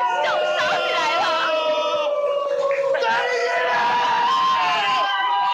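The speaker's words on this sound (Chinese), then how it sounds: "整间餐厅客人都喝彩" Restaurant customers at a Korean grilled-beef eatery cheer and whoop during a tableside flaming grilled-sausage show, with raised overlapping voices and shouts forming a lively crowd din throughout.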